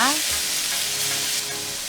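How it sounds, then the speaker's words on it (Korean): Shrimp frying with garlic in hot oil, a steady broadband sizzle filling the clip, close and fairly loud, with a brief stir or clink near the start and no talking. "새우를 튀길 차례인데요. 제겨사는 마늘을 넣고 튀기고 볶아줬답니다."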